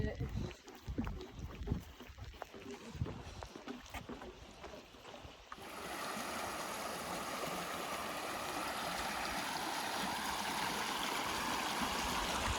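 Steady broadband rush of a high-running stream on the Appalachian Trail, loud and close, following a stretch of scattered outdoor noises and movement.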